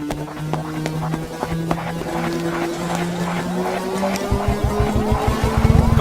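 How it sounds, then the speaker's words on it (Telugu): A Scorpio SUV speeds along in a film chase, its engine revving and rising in pitch as it gathers pace, with tyre noise and dramatic soundtrack layered over it. "స్కార్పియో హాస్పిటల్ లోపలికి వెళ్ళకుండా స్ట్రైట్ గా వెళ్తుంది"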